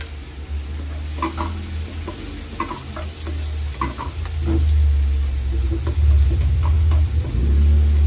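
Sliced onions sautéing in a pan for ginisang repolyo, a continuous sizzle with repeated spatula scrapes and stirs, over a low rumbling hum that swells toward the end.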